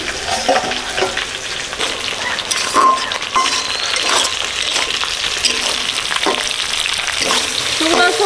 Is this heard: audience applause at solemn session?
no